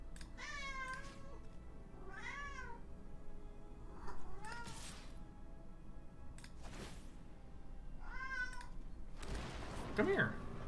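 A cat meows repeatedly in short rising-and-falling calls, close by and fairly clear over a faint background hum, with pauses between the cries.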